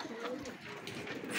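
Pigeons cooing softly in a loft, hungry and stirred by the sound of feed, a low steady murmur of coos with faint background noise throughout.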